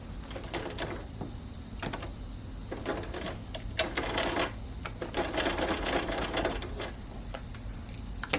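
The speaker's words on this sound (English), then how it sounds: "now I'm going to start sewing this, and I'm going to start actually on the end." A sewing machine stitches a pleated-corner cushion in bursts of rapid mechanical clatter, stopping and starting several times, close up and fairly loud with no talking.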